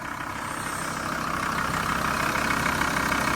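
A belt-driven diesel engine in a 2004 Volkswagen LT46 van idles steadily at close range, a constant low rumble with a clattering mechanical texture and no voices.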